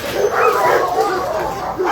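Two dogs, Onyx and Diamond, make yipping, whining barks at close range, with overlapping high cries through the short clip and a person's voice mixed in.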